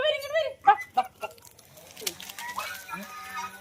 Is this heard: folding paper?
no